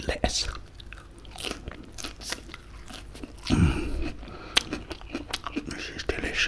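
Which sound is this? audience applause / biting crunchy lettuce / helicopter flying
biting crunchy lettuce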